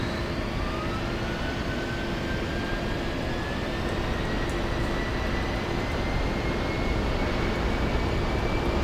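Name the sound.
A-10 engine crossbleed start in flight simulator video game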